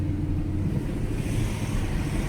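A BMW 535i pulling away under throttle, its steady low rumble loud and close throughout with broadband road and wind noise and no talk over it.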